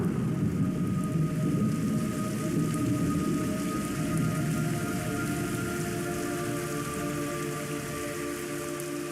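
Steady, heavy rain hisses without a break in the video game Metal Gear Solid 3: Snake Eater, with a faint low rumble underneath and a few thin sustained tones.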